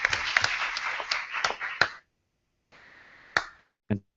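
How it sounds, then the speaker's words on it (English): Applause from a small live podcast audience at the e-Formation event: scattered claps and snaps for about two seconds, a pause, then a few sparse isolated claps, fairly close and modest in volume. "Big round of applause."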